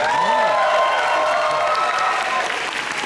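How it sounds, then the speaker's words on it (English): Audience applause at a dance competition, steady dense clapping mixed with crowd cheering and whoops filling the whole stretch at a loud, even level. "so give them a round of applause for that."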